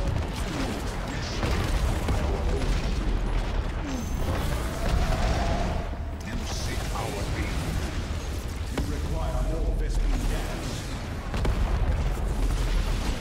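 Dense, continuous StarCraft II co-op combat noise with rumbling bursts of gunfire and booms throughout, with a voice speaking over it.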